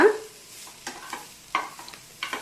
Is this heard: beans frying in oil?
yes